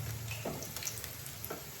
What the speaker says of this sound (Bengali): এই প্রথম আমি এইভাবে ভাজছি বাঁধাকপির পকোড়া